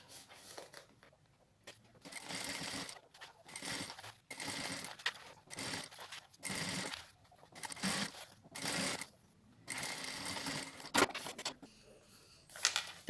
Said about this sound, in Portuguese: Vou fazer uma costura de um pé de máquina.